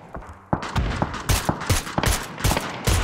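Repeated loud gunshots in PUBG, roughly a dozen sharp cracks in quick irregular bursts, close and dominant over a quieter background.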